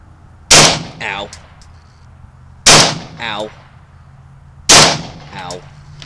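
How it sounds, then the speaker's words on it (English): Three loud, sharp gunshots from a Cobray PM11 9mm pistol, spaced about two seconds apart, each a sudden broadband crack with a brief ringing tail, followed by a short metallic clatter. "I'm going to let you watch me hurt myself trying to fire this gun."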